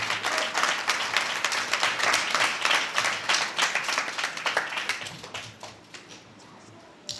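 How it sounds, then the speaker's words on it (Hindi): A congregation at a Hindi-language pastor's church meeting applauds with brisk, crowded clapping that stays strong for about five seconds, then softens and dies away. "अब ये तीनों के लिए ताली बजाइए।"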